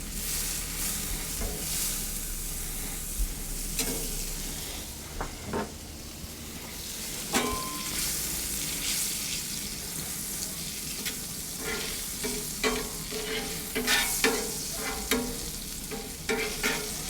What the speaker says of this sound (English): Now we're gonna add the bacon. Now let's put it on the Blackstone.